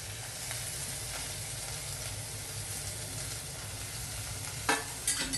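Chopped garlic, green chili, coconut, onion and cumin fry in a pan for an ivy gourd leaf thoran, a quiet steady sizzle with occasional spoon scrapes and a couple of sharper knocks near the end, no voices.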